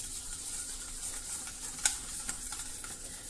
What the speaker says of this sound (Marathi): आता आपल्याला हे छान फेटून घ्यायचं आहे।